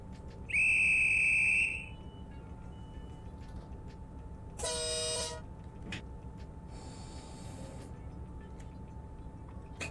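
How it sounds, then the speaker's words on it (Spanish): A long, shrill train station whistle blast sounds once, followed by a shorter horn-like toot, over steady low rumbling background noise, at a station on the Retiro–Junín line in Argentina. "Escuchá el silbato, Dobili."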